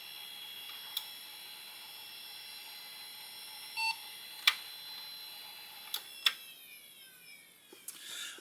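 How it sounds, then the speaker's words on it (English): Short electronic beeps sound at intervals against a faint steady hum as a Slot 1 computer motherboard boots, with a few soft clicks toward the end. "That was a single beep."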